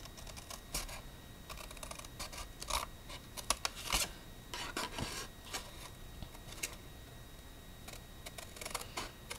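Scissors or a paper knife cutting through a paper envelope template, heard as a faint, irregular run of crisp snips and scrapes with short pauses between cuts.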